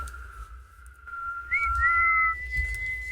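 A person whistles a few sustained, sliding tones, held and then rising, close and clear indoors, with no talking over it.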